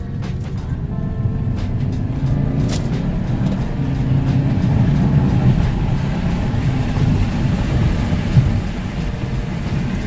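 A 2013.5 Volkswagen GLI fitted with an OEM intercooler cruises on a test drive, heard as a steady, even cabin drone of engine and road noise with no speech.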